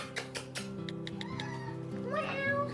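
A cat meows several times over steady background music, the cries short and rising, moderately close.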